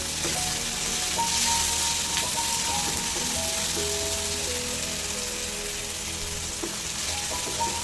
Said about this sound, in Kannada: ಈಗ ಇದು ಫ್ರೈ ಆಗ್ತಿದೆ